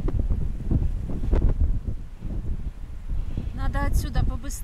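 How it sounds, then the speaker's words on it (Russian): Strong wind buffets the microphone on a mountainside about 400 to 700 metres up near Novorossiysk and Kabardinka, a loud, steady rushing roar, with a brief tonal, voice-like sound near the end. "Отсюда побыстрее, а то ветер."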